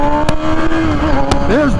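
A 2006 Kawasaki Ninja ZX-6R 636 motorcycle accelerates on an open road, its engine note climbing loud and close with wind rush across the ride.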